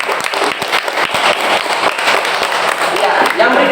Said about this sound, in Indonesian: Kita berikan tepuk tangan dulu juga.